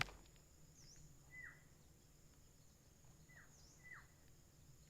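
Short synthetic bird chirps from a tower defense video game, a handful of quick downward-sweeping tweets spaced irregularly over a low steady background hum, with no one talking.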